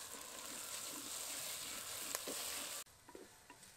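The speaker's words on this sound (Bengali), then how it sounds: "এখন এর মধ্যে দিয়ে দেবো রসুন বাটা, আদা বাটা দেব, আবারও কিছুক্ষণ ভালো করে নেড়ে ছেড়ে নেব" Onions frying with garlic and ginger paste in a pan, a continuous loud sizzle with a few stirring scrapes, then a sudden drop to quieter frying with light clatter.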